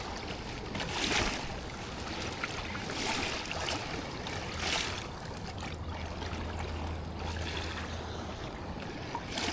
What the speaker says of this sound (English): these are the biggest waves I've seen in a while